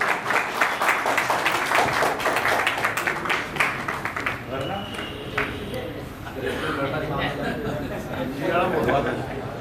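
Audience claps at a ceremony for a library inauguration, a full burst of applause that thins and fades out around the midpoint, followed by quieter room sounds and a voice speaking.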